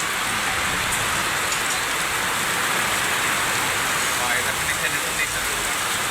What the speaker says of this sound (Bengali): আরে বৃষ্টি রে বাবা রে বাবা, কঠিন একটা বৃষ্টি